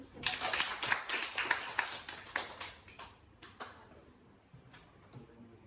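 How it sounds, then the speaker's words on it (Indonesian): Clapping in a room, a burst of fairly sharp hand claps that starts dense, thins to scattered claps, and fades out over several seconds, fairly quiet overall. "Tepuk tangan dulu."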